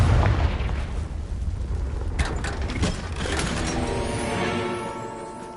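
A Confringo spell explosion in the Hogwarts Legacy game, a booming blast followed by crackling debris and a rumbling, ringing tail that slowly fades.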